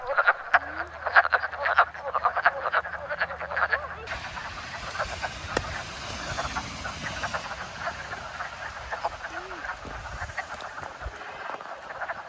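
A chorus of male frogs croaks and trills in rapid, overlapping pulses during a spring amphibian migration, loud at first and continuing more steadily, with a voice briefly heard.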